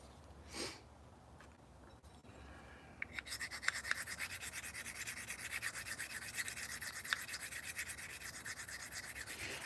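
A blade being sharpened on DMT diamond plates: after a couple of faint knocks, steady rhythmic rasping strokes begin and continue at an even pace, close and moderately quiet.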